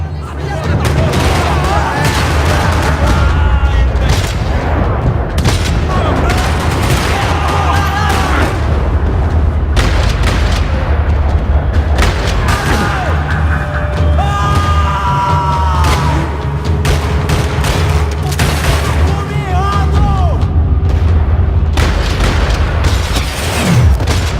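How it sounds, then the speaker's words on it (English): Gunfire and heavy booms in the video game Max Payne 3, loud and continuous over a dense rumbling game soundscape, with voices and cries mixed in throughout. "gunfire."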